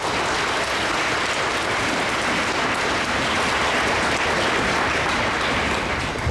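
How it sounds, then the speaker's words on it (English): Sustained round of audience applause at a school Martin Luther King Jr. assembly, dense and even clapping from a large crowd that holds steady throughout, with no talking. "Can we have one more round of applause?"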